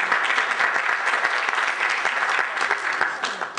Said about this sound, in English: Clap your hands for the reading of the word of the Lord.